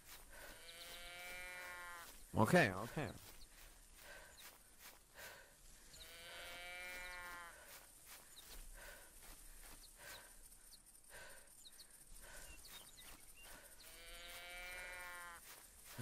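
A goat in the hunting video game TheHunter bleats in long, wavering calls that repeat three times at spaced intervals, fairly close, with a brief loud knock in between and a voice speaking briefly.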